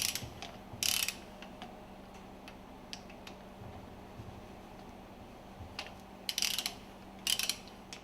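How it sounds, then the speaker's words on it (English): Screws are loosened and removed from the plunger and barrel assembly of a fuel pump, faint scattered ratcheting ticks and a few sharper metallic clicks over a quiet hum. "Loosen and remove the screws from the plunger and barrel assembly ."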